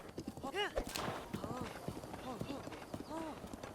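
Hooves of a horse in a video game clip-clop at a quick, uneven pace, with a whinny and other game sounds, while a person talks over them.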